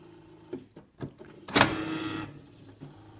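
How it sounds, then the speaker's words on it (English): Cartridges of an HP Officejet J4680 printer shuttle across the carriage after the front door is opened, giving a few soft clicks and then a louder mechanical whir lasting about a second, close and alone. "you'll see the printer cartridges come across"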